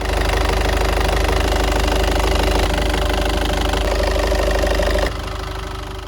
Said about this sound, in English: our 70 horsepower main Yanmar diesel engine